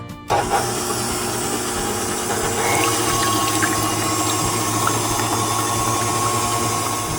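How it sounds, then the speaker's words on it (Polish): Egg whites for a sponge cake are whipped with an electric mixer, a loud continuous motor whir with rattling beaters in the bowl, steady throughout after a brief start. "Zaczynamy od ubijania białek."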